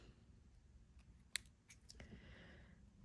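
Small scissors cut through fabric for handmade earrings, one sharp close snip followed by faint rustling in a quiet setting, with no one talking.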